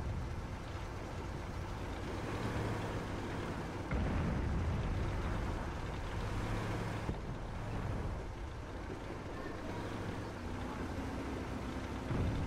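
Artillery shells bursting in a competitive multiplayer game match, loud sustained rumbling booms with a heavy blast near the middle and continuous low roar throughout, no talk.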